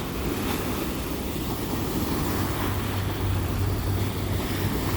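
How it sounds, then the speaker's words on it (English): A New York ferry passes on the water off Governors Island, heard as a steady wash of water and a low engine rumble under constant wind noise, with no talking. "That's the ferry that I'm going to take. That one is not on this route though. It's just passing by this way"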